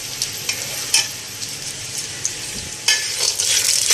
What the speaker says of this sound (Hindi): पिस्ता, अखरोट, इनको भी मैं हल्का सा ना रोस्ट कर लेती हूँ